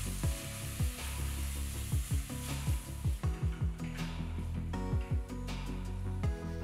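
Tomatoes, onions and ginger garlic paste sauté in a pan for cauliflower pulao, giving a steady close sizzle broken by repeated scraping stirs with a spoon, with no talking.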